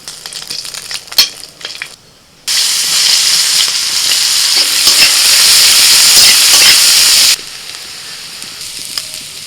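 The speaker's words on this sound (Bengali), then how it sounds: "ওই তেলে দিচ্ছি চারটে শুকনো লঙ্কা" Four dried red chillies drop into hot oil in a pan, bursting into a loud steady sizzle and hiss that holds for several seconds before cutting back to quieter frying crackle.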